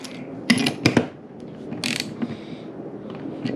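A socket ratchet snugs a part back into a Victor welding regulator during repair, giving a couple of close, sharp metallic clicking bursts, followed by quieter handling noise and faint workshop rustle.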